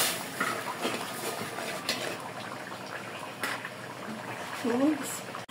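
Water with turmeric, cumin-coriander paste and dried chilli paste heating in a pot for a bottle gourd and prawn curry, giving a steady low bubbling simmer with faint clinks near the end.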